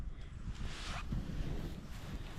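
A cold spring breeze outdoors while hunting for mushrooms, heard as a faint, steady rush of wind buffeting the microphone, with gusts swelling and easing and no one speaking.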